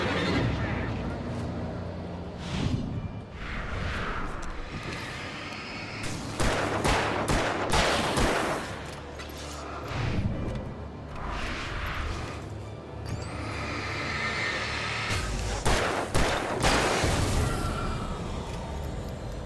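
A flare gun and other weapons fire in Alan Wake Remastered, in several loud bursts set against a rumbling game soundscape. A voice talks at times.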